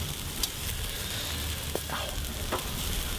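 Bacon-wrapped jalapeno poppers frying in a pan, a dense, steady sizzle and crackle with scattered small pops, close and continuous, with no talk over it.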